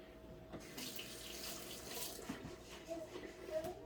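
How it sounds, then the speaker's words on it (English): A kitchen tap runs steadily while a sprig of fresh dill is rinsed beneath it, the water splashing close and continuous at moderate volume. "We got some fresh dill here. So I'm going to just take a sprig of that. I'll rinse that off here."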